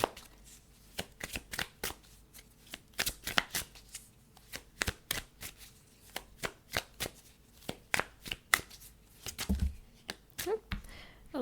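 Tarot cards are shuffled by hand in a quick run of dry riffles and slaps that continues through the whole stretch, close and fairly soft.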